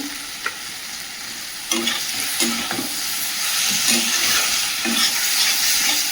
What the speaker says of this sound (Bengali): এই যে মাছটা খুব ভালো করে কষিয়ে নিয়েছি মশলার সঙ্গে